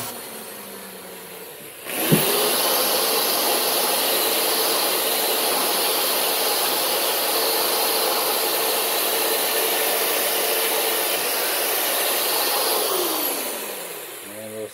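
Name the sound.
sander/grinding wheel sharpening a knife edge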